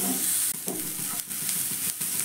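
Chopped onion fries in a pan for a pea-stuffed paratha dish, a steady hiss of sizzling broken by several scraping stirs of a spatula, close and clear.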